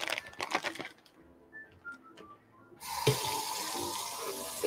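Water rushes from a tap for hand washing in a kitchen during salad and flank steak preparation, starting after some clattering and light handling sounds and continuing as a steady hiss to the end.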